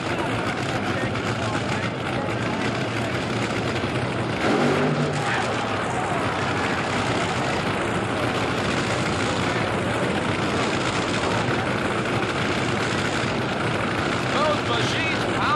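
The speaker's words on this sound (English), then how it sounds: "Machines pounding the ground with plenty of horsepower in this matchup." Top Fuel dragsters race at the 1984 NHRA World Finals in Pomona, a dense, steady engine roar filling the whole stretch at high volume, with a commentator talking over it.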